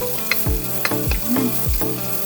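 Onion stirring in a hot pan for a quick pansit bam-e, with sharp scraping strokes of a utensil recurring about every half second over a steady frying sizzle, close and clear with no talk.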